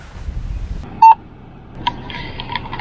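A single short electronic beep rings out clearly on its own, about a tenth of a second long, followed by faint ambient noise outdoors.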